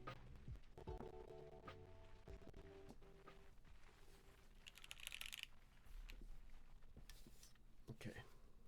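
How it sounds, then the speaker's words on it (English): Someone types on a Pangea Mini keyboard, and the keystrokes come out as a quiet, irregular clatter of small clicks, faint and close, with some talking mixed in. "I'll like show the typing again"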